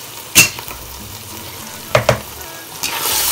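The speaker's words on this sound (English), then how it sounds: "I cover it to fry a little bit before I can add the stock and the coconut rice." Ingredients frying in a covered pot while making coconut rice, a steady low sizzle with a few sharp clatters of lid or utensil against the pot, close and clear, with no talk.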